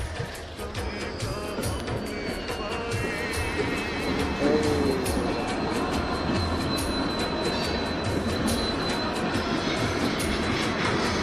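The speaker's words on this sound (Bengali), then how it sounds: "ট্রেন আসতেছে। এই ট্রেনটা দেখাবো" A train rolls past a road crossing where traffic waits, producing a loud, steady rumble and clatter of wagons with a brief wheel squeal along the way.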